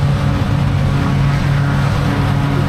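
A tractor engine runs during silage harvesting, a loud, steady diesel drone with a constant low rumble and no speech.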